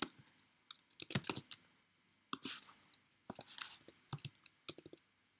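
Quick bursts of plastic button presses on a calculator, tapped in short irregular runs with brief pauses, close and fairly quiet with no talking.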